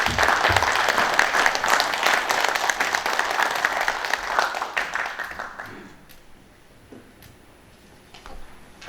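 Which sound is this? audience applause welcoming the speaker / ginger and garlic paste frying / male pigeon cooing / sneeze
audience applause welcoming the speaker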